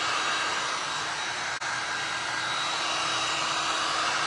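Hair dryer blowing a constant loud whooshing hum while drying paint on a glass and resin art piece, steady and close with only a brief dip midway.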